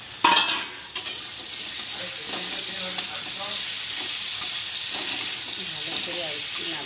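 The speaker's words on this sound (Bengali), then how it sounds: "ভালো করে আর একটু নাড়াচাড়া করে নেব।" Tomato and vegetable stalks being stirred in a frying pan, scraping spatula strokes over a constant close sizzle and hiss, with a few sharper knocks early on.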